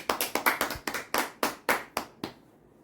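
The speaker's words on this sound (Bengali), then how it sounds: "আমরা একটু হাততালি দেবো বাকিরা।" A small group claps in quick bursts, about ten crisp, separate hand claps that slow slightly and fade out at the end, with no talking.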